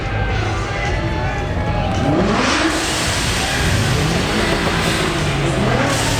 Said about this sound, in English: 401 original nail head Buick V8 under the hood of this thing.